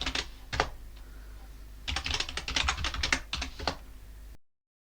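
Command typed on a computer keyboard for a terminal: a few isolated keystrokes, then a quick close burst of clicking keys, ending abruptly in silence.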